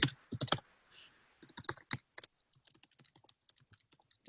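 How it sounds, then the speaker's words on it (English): Rapid, uneven keystrokes on a computer keyboard while entering a login, loud bursts at first and then lighter, scattered clicks, with no talking. "Don't judge my typing skills in case I make a typo, everybody."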